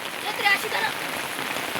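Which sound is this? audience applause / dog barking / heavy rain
heavy rain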